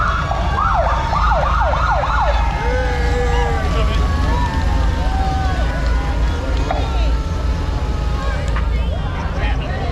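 A police car siren wails loudly in short, rising yelps at a homecoming parade on a Savannah street, over a steady rumble of traffic and crowd noise.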